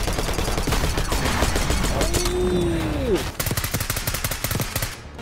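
Rapid automatic gunfire in Call of Duty Black Ops 6 rattles loud and close in long bursts. A whizzing tone sweeps through midway, and a short exclamation breaks in.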